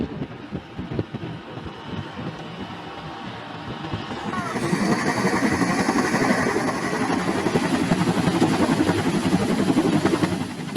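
Dutch CH-47 Chinook helicopters during sling load training, a steady heavy rotor and engine roar that swells louder partway through and holds, with wind buffeting the microphone.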